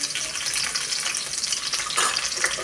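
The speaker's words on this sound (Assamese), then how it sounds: "এতিয়া ভাজিখন বনাই লওঁ ভাতকেৰেলা আৰু আলু মিহিকৈ কাটি ৰাখিছোঁ" Sliced bitter gourd and potato sizzle steadily in hot oil for a bhaji, a continuous bright frying hiss with a slight stirring swell near the end, close and alone.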